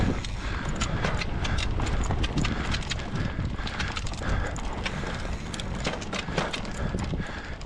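A mountain bike rattles and clatters continuously over a bike park trail, loud and close, with dense irregular knocks over rolling noise.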